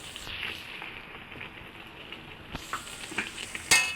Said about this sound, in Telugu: ఒక 200 గ్రామ్స్ చింతపండు నానబెట్టి వేసుకున్న రసాన్ని పోస్తున్నానండి